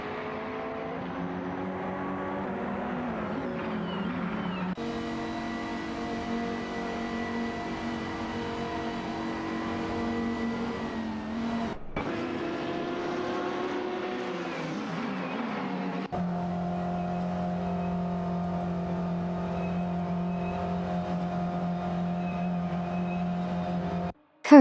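BMW M6 GT3 race cars in a racing video game, one engine droning loudly with rising and falling pitch through gear shifts, with abrupt cuts between camera views; no voices.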